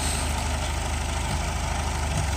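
A Ford 8N tractor engine runs steadily, with a continuous low, even chug and no speech.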